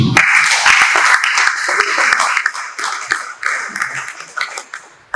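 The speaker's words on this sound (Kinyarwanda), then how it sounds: "mubwegere Imana mu ijuru mumushamashe mwikomere amashyi" A crowd at a Christian worship gathering in Nairobi bursts into loud, sustained applause, dense clapping that stays strong throughout before thinning slightly near the end.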